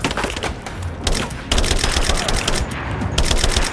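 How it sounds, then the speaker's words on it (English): Sustained automatic gunfire from a firefight in Rise of the Tomb Raider, with dense rapid bursts and loud overlapping shots that continue throughout, growing heavier partway through. "Laying down cover fire!"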